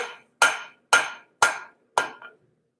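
Five sharp, evenly spaced hammer blows ring out on steel being forged into a hook, each strike loud and close with a short metallic decay, then silence.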